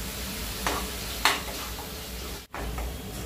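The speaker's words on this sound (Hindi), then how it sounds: "अब इसमें ऐड कर लेते हैं ये पिसा हुआ टमाटर।" Ground tomato goes into sizzling ginger-garlic paste in a pan over a medium-high gas flame, giving a steady frying hiss with a couple of sharp splashy bursts as it lands, then a brief stir.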